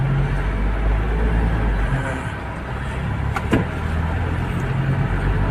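Toyota Hilux Mighty-X pickup engine running and revving up close, a steady loud rumble with a brief rise near the middle and no talk over it.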